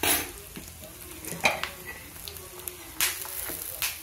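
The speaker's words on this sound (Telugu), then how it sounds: "వేగిపోయినాయండి పల్లీలు" Peanuts fry in hot oil in a pan while garelu are being made, giving a steady close sizzle broken by scattered clinks and stirring scrapes from the utensil, with no voices.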